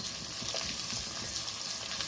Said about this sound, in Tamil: எல்லாமே நல்லா வதக்கணும்